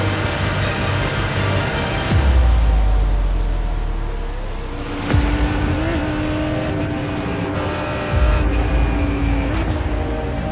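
Race cars including a Lamborghini racing in the sim game iRacing, loud sustained engine drone with gear-shift drops and pitch changes, several revving surges and passes across the whole stretch.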